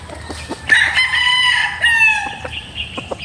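A white Kelso gamefowl rooster with a straight comb crows loudly and close, one full drawn-out crow rising and then trailing off, with a few faint clucks around it.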